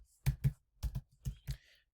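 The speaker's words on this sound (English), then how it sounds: "let me just go back and type in some of the stuff here" Keys tapped on a portable computer keyboard while typing program code, six quiet distinct clicks in two-stroke pairs with short pauses between, close and alone.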